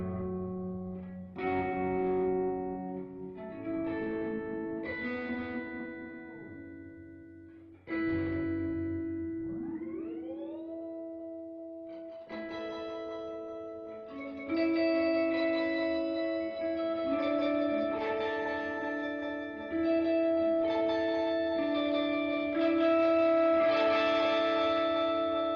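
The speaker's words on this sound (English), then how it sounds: "this is kind of a detuning echo." A detuning echo from a Chase Bliss Habit delay pedal processes Moog Grandmother synth notes, with sustained tones repeating and sliding in pitch, layering into a dense, shimmering wash of overlapping echoes.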